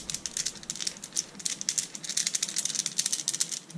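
A short galvanized chain, used as a fishing noisemaker, rattles and jingles in quick irregular shakes, close and fairly quiet, with no voices.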